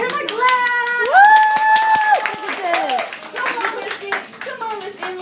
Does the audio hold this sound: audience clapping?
yes